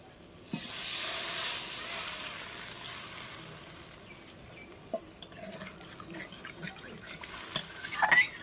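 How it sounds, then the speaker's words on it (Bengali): Water is poured into a pan of spicy Bengali mango curry (aam sol) cooked with Kashmiri chilli powder. A loud hissing rush fills the first few seconds and then fades into gentle bubbling, with a few soft clinks. "ঝোলের জন্য জল দিয়ে দিলাম।"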